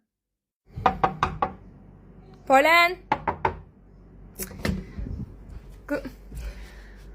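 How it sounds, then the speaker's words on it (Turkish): Several sharp knocks on a door in quick succession, close and loud, followed by more knocks, with people talking in between. "Kızım çaldım kapıyı."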